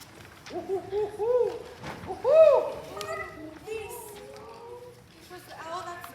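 Owl hoot sound effect during a middle school stage production of Macbeth, a couple of wavering hooting calls near the start, with young actors' voices and light stage noise around them.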